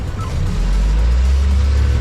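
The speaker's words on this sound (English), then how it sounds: "I'll just put it in D, no tricks, just full accelerate, let the car manage the traction itself" B-segment car in drive accelerating at full throttle, traction left to the car: a loud, steady low engine drone building and holding close by for two seconds, with no talk.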